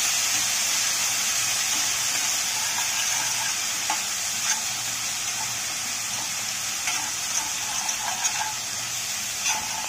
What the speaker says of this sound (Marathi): ते चांगलं परतून घ्यायचं